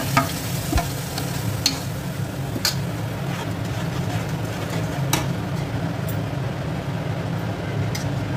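Spice paste fries in oil for prawn makhani biryani, with a continuous close sizzle, a low rumbling bed of sound and occasional sharp scrapes and clinks from stirring in the pan.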